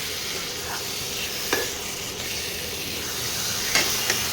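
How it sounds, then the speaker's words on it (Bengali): Meat being sautéed with spices in a pan as a home-style kosha mangsho cooks, a steady sizzling hiss with a few sharp scrapes of a spoon against the pan. "মাংসটা দিয়ে মশলার সঙ্গে মাংসটা কষাতে হবে"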